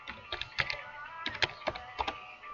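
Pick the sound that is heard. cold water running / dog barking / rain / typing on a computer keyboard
typing on a computer keyboard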